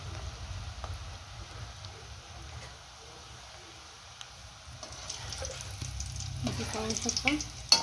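Food deep-fries in hot oil over a medium gas flame, giving a faint, steady sizzle that swells a little louder near the end, with no talking.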